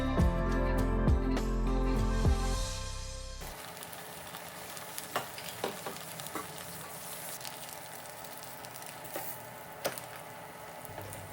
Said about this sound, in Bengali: এখন অপর পাশ ভেজে নিব। সামান্য কিছু তেল দিয়ে আরও কিছুক্ষণ ভেজে নিব।